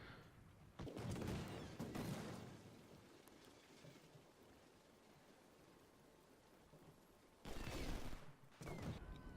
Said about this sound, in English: put the cannons on free fire